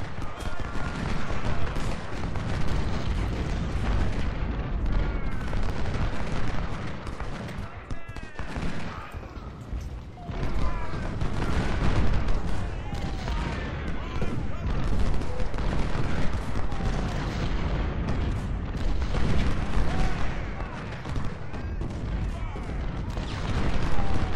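Civil War artillery and massed musket volleys rumble in the Ultimate General: Civil War video game, with dense, continuous booms and crackling fusillades rolling through the whole battle scene.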